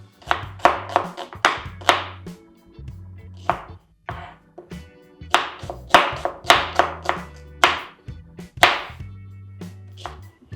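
A knife chopping onion on a board while preparing a fava bean dish, heard as close, crisp bursts of rapid chops separated by short pauses, with no talking.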